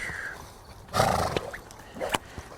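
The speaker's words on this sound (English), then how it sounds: "That snorting is she's just mad because she can't do what she wants to do." A young green mare named Rosie snorts forcefully during groundwork training at a post, two or three sharp breathy bursts close by over quiet outdoor background.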